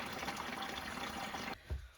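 Water is poured into a shower bucket for an off-grid indoor cabin shower in Alaska. A steady, fairly quiet gushing fill ends with a few splashy sloshes.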